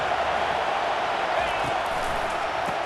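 A stadium crowd roars in the video game College Football 25 as a steady, dense wash of noise, loud and continuous throughout.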